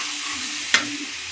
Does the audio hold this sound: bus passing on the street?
no